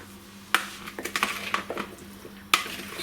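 Crinkle cut chips being tossed with olive oil in a bowl make a cluster of light clinks and scrapes against the bowl, with two sharper knocks near the start and end, close and fairly quiet.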